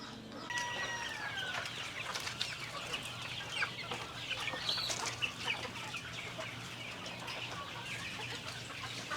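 Native darag chickens cluck and call on a farm in Cebu, with scattered bursts of clucking and short squawks at a moderate distance over a soft outdoor background.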